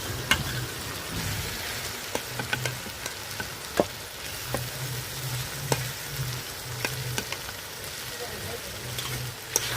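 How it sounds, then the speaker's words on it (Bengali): Eggs and potatoes frying with spices in a wok for egg biryani, a steady broadband sizzle with scattered sharp clicks of a stirring spoon throughout, close and moderately loud, with faint low hum underneath. "সব মশলার সাথে ডিম আলু ভালোভাবে কষাই নিছি।"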